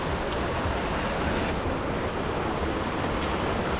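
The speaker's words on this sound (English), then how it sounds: "This rain is not giving up." Heavy rain pours at Jonker night market in Melaka, a dense, loud, unbroken hiss of downpour that fills the whole moment with no voices.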